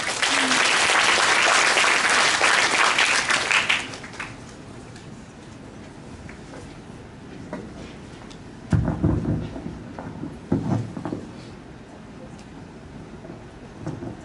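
Loud, dense audience applause fills a school auditorium at a bilingual class showcase performance, then cuts off abruptly, leaving a quieter room with scattered shuffling and brief bumps.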